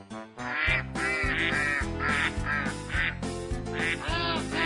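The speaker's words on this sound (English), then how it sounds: "We'll be right back after Bob gets the ducks out of his living room." Ducks loose in a living room quack loudly and repeatedly in a steady, overlapping chorus, close by and continuous from start to finish.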